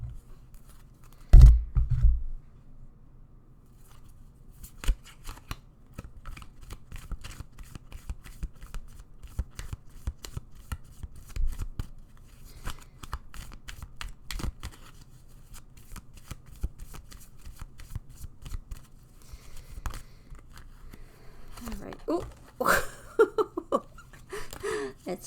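Tarot cards are shuffled by hand, giving a long run of soft riffling, flicking and tapping with a few sharper knocks early on, close and fairly quiet, with faint voice sounds near the end.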